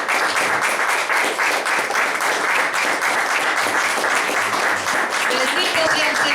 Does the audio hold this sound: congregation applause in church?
yes